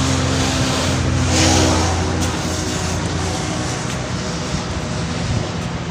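A red motorbike pulls away with a steady engine drone blended into heavy wind-like rushing noise, the low engine hum fading after a few seconds.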